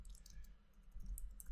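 Rapid computer keyboard typing while making a Minecraft map, a quiet run of light clicks with bright transient taps scattered across the moment over a low background hum.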